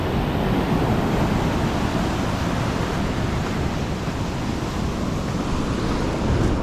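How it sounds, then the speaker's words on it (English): Ocean surf rolling in with the incoming tide at Dry Lagoon on the Humboldt coast of California, a steady loud roar of waves mixed with wind buffeting the microphone, with no talking. "Tide's coming in."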